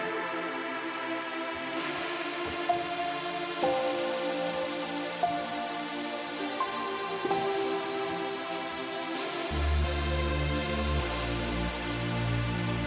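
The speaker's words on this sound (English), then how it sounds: "altogether it sounds like this with the pads and the synths and everything" Layered synth pads hold a lush sustained chord in a trance track while a bright arpeggio ripples on top, with deep bass entering near the end of the passage.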